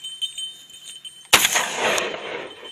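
A single loud shotgun blast on a partridge hunt near Polatlı, Ankara, bursting sharply out of quiet outdoor air and trailing off in a long rolling echo.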